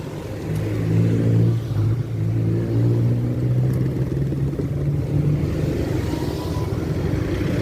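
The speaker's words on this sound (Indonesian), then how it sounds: "Jalan menuju Janmas macet, luar biasa, panjang sekali macet." Cars sit in a long, heavy traffic jam near a railway crossing on the road to Janmas, Palembang to Lahat route, with a steady close engine rumble and an idling motor humming throughout, no talk.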